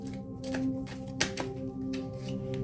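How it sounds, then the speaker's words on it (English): Tarot cards being shuffled by hand, a run of soft papery riffles and taps with a steady low hum underneath, close and fairly quiet. "Let me shuffle some more."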